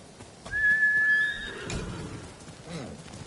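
A horse in the samurai game Ghost of Tsushima gives one loud, close, high whinny lasting about a second, followed by softer snorts and a brief hoof sound.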